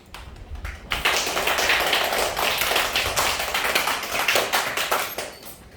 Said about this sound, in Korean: 나오실 때 큰 박수로 맞아주세요